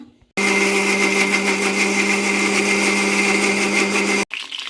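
An electric mixer grinder grinding fried brinjal: a loud steady motor whine starts abruptly, holds evenly for about four seconds, then cuts off.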